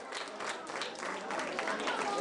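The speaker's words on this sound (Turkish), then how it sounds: "Alkışlıyoruz arkadaşımızı," Guests at a Turkish engagement ceremony applaud after the ring is placed on the groom's finger, a brief scattered burst of clapping over crowd murmur in a reverberant hall.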